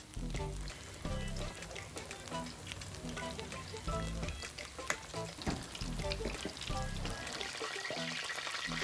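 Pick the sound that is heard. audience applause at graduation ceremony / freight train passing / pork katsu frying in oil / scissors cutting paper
pork katsu frying in oil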